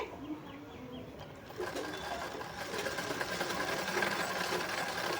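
A sewing machine runs steadily while stitching a saree piece around a neckline, its close, even mechanical whirr gaining strength after the first second and holding to the end.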